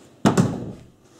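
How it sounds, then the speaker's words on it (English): A door swings shut indoors during a homemade ASMR recording, giving one close, solid thunk quickly followed by a second softer knock as it settles, then a short fading tail into quiet room hum. "Close the door."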